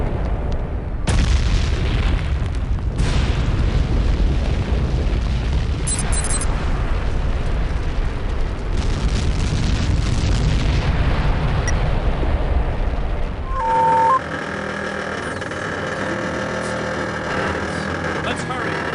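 A temple explodes in the video game Lands of Lore 3, with loud sustained deep booming and rumbling that runs continuously under a speaking voice, then drops away to quieter game ambience near the end.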